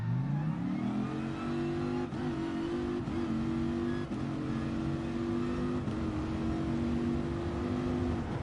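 A Toyota Supra revs hard in a GT Sport quarter-mile drag race, its engine note climbing steadily and holding a loud, even drone, dipping briefly at each gear change.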